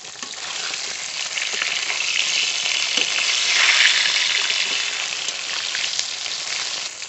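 Pangas fish pieces frying in hot oil: a dense, steady sizzle with fine crackling throughout, swelling slightly louder midway before settling back, with no voices.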